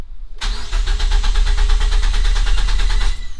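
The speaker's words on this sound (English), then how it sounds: "It was just the starter motor kicking over and spinning the engine" A Mazda2 starter motor cranks the engine steadily for about three seconds with no spark or fuel, a loud, close, rapid whirring chug that never catches, with a sharp start and an abrupt stop.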